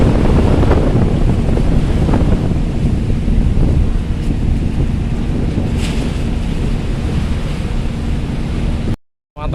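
Sea swell and strong wind at Bakauheni harbor at night roar steadily and loudly, with heavy wind buffeting on the microphone and wave wash throughout, cutting out briefly at the end.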